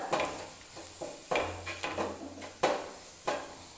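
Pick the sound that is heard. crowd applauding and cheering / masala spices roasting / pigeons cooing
masala spices roasting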